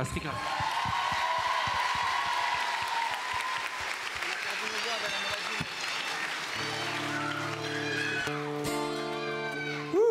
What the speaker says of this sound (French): Applaudissements très classe